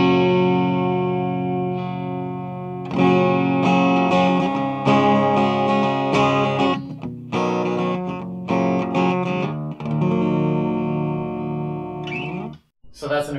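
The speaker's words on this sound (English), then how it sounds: "So that's an acoustic type sound." Guitar played through an active pickguard with onboard processing set to an acoustic-style tone, ringing strummed chords and picked notes with sustained harmonics, steady and fairly loud, no talking.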